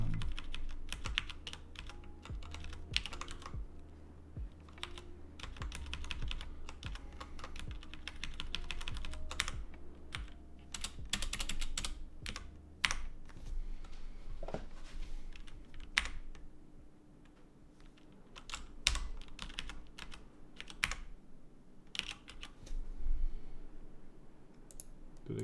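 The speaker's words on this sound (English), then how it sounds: "type this in wrong" Fast, uneven clacking of keys on a computer keyboard during game development work, close and clear with short pauses between bursts of typing and no talk.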